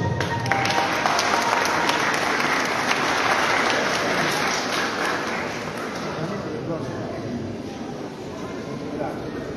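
An audience at a Christmas shepherds' presentation in Pomabamba, Ancash, applauds in a dense, sustained wash that eases off slightly toward the end. Voices may be mixed in under the applause.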